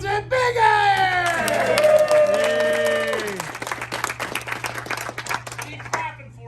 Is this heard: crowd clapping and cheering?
yes